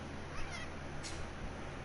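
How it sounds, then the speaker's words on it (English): A house cat gives a short meow over low background hum, brief and fairly close, followed by a faint second squeak. "Little kitty cat."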